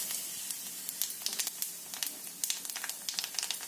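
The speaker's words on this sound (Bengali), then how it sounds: "তারপরে ওই তেলের মধ্যে একটু কালো জিরে দিলাম" Black cumin seeds hitting hot oil left over from frying hilsa fish, a sharp close sizzle with rapid crackling spits and pops that settle into a steady hiss.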